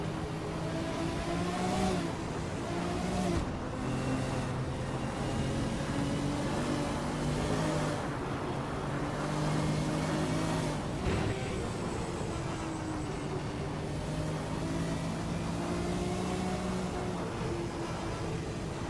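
A vintage race car at Le Mans, France, through the Porsche Curves: a steady, buzzing engine drone with rising and falling pitch as it shifts and accelerates, heard alone without voices.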